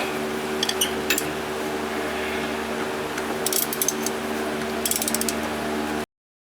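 A ratchet clicks in a few short bursts while a bolt is started on the body of a 1989 Chevy S10 long bed, over a steady background hum, nearby and without talk.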